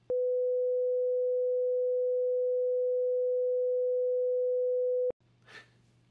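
A 500 Hz sine test tone, 6 dB quieter than the reference, sustains evenly for five seconds, stops sharply, and is followed by a brief faint breath or rustle.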